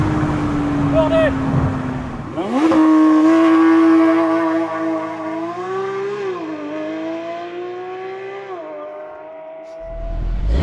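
A Porsche GT3 engine roars loudly from inside the cabin, revving up sharply and holding a high, rising and falling note through the gears as the car accelerates hard, with a voice briefly audible beneath.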